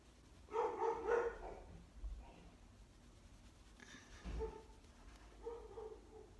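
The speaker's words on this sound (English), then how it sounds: "That is my crazy dog. You're probably gonna hear her just about every time I do a tutorial." A pet dog barks a few times in the background during an airbrush makeup tutorial, in short muffled bursts separated by quiet gaps, fairly faint and not close.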